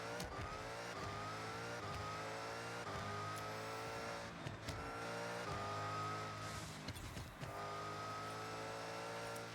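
A supercharged car engine, steady and held at speed, with a high supercharger whine over the low exhaust drone and a few tire or road noises. It is continuous and fairly distant or muffled, with no speech.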